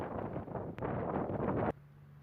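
Strong wind buffeting the microphone on a mountain trail, a loud continuous rushing roar with brief dips and gusts, close and harsh, no voices.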